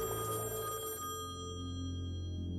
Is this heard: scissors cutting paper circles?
no